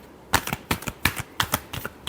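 Tarot cards being shuffled by hand, a quick run of crisp riffling bursts in an uneven rhythm, close and clear with no talk.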